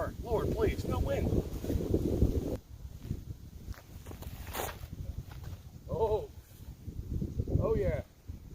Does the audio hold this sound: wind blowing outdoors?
yes